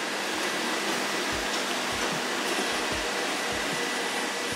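Nineteen robot vacuum cleaners run together in a testing room, producing a steady loud broadband whir with occasional low bumps and thuds as units knock into things.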